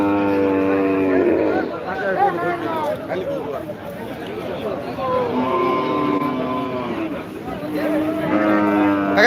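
A cow moos at a busy cattle market in Betagi, with deep drawn-out calls near the start and end rising over steady crowd chatter and close talking.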